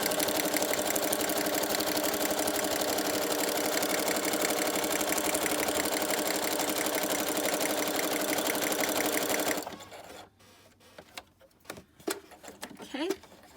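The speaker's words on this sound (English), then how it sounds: "So all I'm doing is sewing along the bottom." A sewing machine stitches along the bottom edge of a paper ephemera folder, a steady close mechanical whir that runs for several seconds and then stops, leaving faint handling noises.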